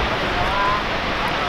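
The Skogafoss waterfall in Iceland gives a steady, dense rushing roar, heard from nearby, unbroken across the moment and mixed with some wind buffeting.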